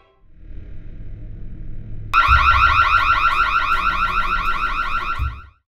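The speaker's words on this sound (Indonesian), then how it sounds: "tiba-tiba saja mereka mendengar suara alarm rumah yang mendadak berbunyi" A house alarm suddenly goes off indoors: after a low rumbling lead-in, a loud pulsing electronic siren starts abruptly and warbles rapidly and steadily for several seconds before cutting off.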